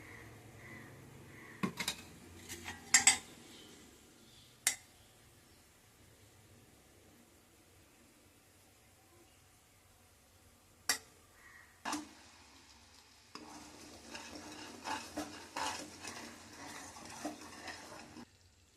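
A spoon stirs sugar syrup in a pan for coconut burfi, producing sparse, sharp clinks and scrapes against metal over a quiet background, with a denser cluster of stirring toward the end.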